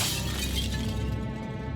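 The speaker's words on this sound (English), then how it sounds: "Good section of the mirror shatters, revealing metal underneath." A hammer strike shatters mirror glass in the video game Shadowgate, a sharp burst of breaking glass followed by tinkling fragments that trail off, heard alone and fairly close.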